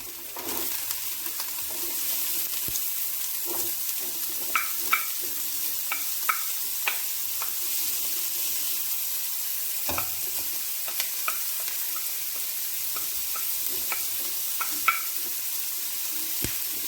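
Peppers and coriander sauté in a pan as the base for a seafood paella, a steady close sizzle punctuated by light spoon scrapes and clicks, with no talking.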